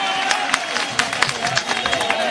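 A crowd at a Madhya Pradesh Congress gathering claps in welcome, a dense run of sharp, loud hand claps with some voices mixed in.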